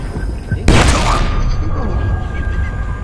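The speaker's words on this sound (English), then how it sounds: "He threw a frag at me!" A frag grenade explodes in the co-op stealth shooter Splinter Cell Blacklist, a sudden loud boom with a rumbling tail that fades over a couple of seconds, heard alone.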